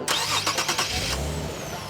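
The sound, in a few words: car engine starting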